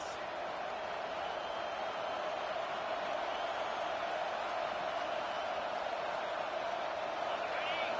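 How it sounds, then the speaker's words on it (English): Home crowd at an American football game, a steady, broad roar that holds level for eight seconds like a distant stadium mass of voices. "Here comes this home crowd as the defense tries to get off the field on third down"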